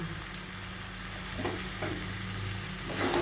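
Banana flower curry with ghee is stirred in a pan, giving a soft, steady sizzle with light scraping strokes, quiet and close, with no talking.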